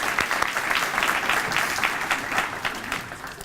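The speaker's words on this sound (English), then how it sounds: "Another round of applause" An audience at a neighborhood recognition awards ceremony claps continuously, a dense, even patter of many hands that fades slightly toward the end.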